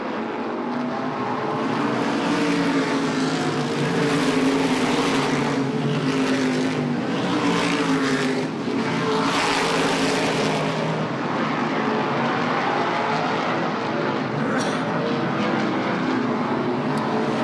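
Race cars roar around the oval at Lee USA Speedway during the ACT Governors Cup, a dense, continuous engine drone that swells as the pack passes, loud and steady with no talk over it.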